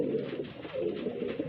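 Highflyer pigeons in a loft coo steadily and softly, a low rolling murmur repeating throughout without pause.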